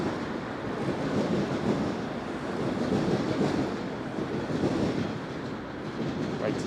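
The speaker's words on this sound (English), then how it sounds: "Southbound subway action there." A southbound subway train rumbles past in midtown Toronto on a winter night, a steady loud roar with faint clattering and some wind buffeting throughout, no voices.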